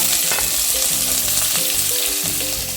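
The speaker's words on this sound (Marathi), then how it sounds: "तेल गरम झाल्यावर यामध्ये मोहरी घातली आहे जिरं घातलं आहे आपण कढीपत्ता घातला आहे थोडासा कांदा" Mustard seeds, cumin, curry leaves and onion fry in hot oil for a South Indian sambar, making a loud, close, constant sizzle and crackle throughout with no speech.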